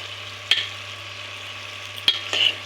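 Ingredients fry in a pan for a Telugu home-style dish, a continuous sizzle under a low steady hum, broken by two sharp scraping stirs of a spatula and a brief clatter near the end, with no talking.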